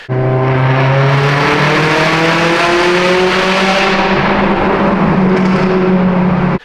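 A Subaru EJ-engined STI fitted with equal length headers gives a loud, close, steady exhaust drone that rises slightly in pitch as the engine revs, heard alone.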